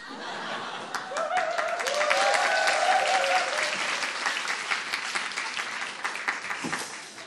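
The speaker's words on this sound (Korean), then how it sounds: "한 번 박수 쳐보세요." A youth worship service audience breaks into lively applause that swells and then tapers, mixed with laughter and a few voices.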